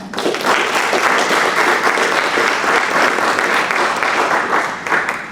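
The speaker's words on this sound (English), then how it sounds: "Give yourselves a round of applause." Students in an audience at a campus talk give themselves a round of applause, loud, full clapping that swells in quickly and stays dense before easing at the end.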